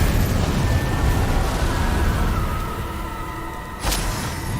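The Expelliarmus spell cast in Hogwarts Legacy produces a rumbling magical blast that fades slightly, then a sharp burst cracks out near the end.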